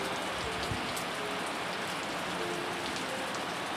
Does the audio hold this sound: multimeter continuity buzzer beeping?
no